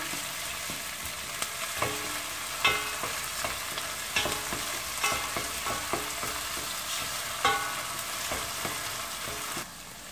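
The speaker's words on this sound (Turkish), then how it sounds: "salçanın asiti çıkasıya kadar kavuracağım" Tomato paste being sautéed in a pan for a leek dish, soft steady sizzling broken by repeated scraping and clacking stirring strokes, close by, until it quiets near the end.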